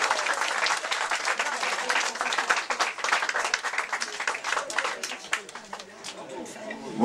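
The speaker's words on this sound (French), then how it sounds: "Un peu d'applaudissements, s'il vous plaît." Lively audience applause at an anniversary celebration for a local post in Quaregnon, dense close clapping throughout with scattered voices and chatter mixed in.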